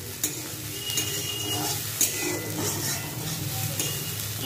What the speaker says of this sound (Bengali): এইখানে হচ্ছে আমি করলা ভাজা ভাজছি, ঠিক আছে, করলা আর আলু